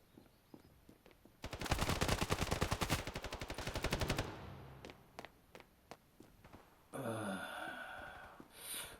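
Rapid bursts of AKR 12 automatic rifle fire in the mobile shooter Standoff 2, a long loud volley followed by scattered single shots and a brief rushing burst near the end.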